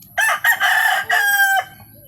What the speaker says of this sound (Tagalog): Update sa manok namin